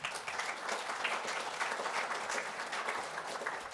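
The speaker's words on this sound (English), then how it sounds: "A round of applause for Jen, please" An audience applauds a presenter after an insider-threat risk talk, a steady wash of many people clapping at moderate volume throughout, without speech over it.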